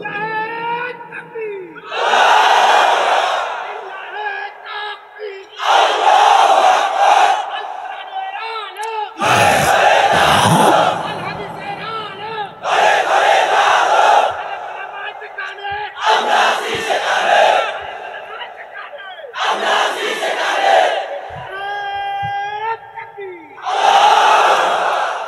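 A large crowd chants takbir in unison at a Bengali Islamic sermon gathering, loud bursts of massed voices repeating roughly every four seconds with brief gaps between.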